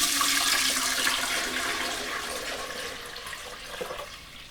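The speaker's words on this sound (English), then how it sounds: "I like to put in hot water from the tap." Hot water gushes steadily from a tap into a container, a continuous hissing splash with no voices.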